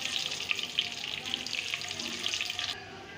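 Cumin and curry leaves frying in oil in a pan, a steady hiss of sizzling with soft crackles and pops throughout, moderately close, ending abruptly.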